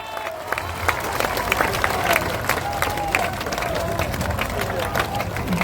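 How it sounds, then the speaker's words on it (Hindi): Crowd at a political party event applauding steadily, a dense wash of clapping with some cheering and murmur throughout. "जोरदार ताली बजाइए"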